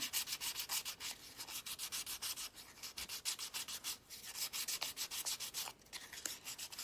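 Sandpaper rubs steadily back and forth over a small wooden piece, a rhythmic scratchy rasp repeating several times per second, close and fairly quiet, with no talk.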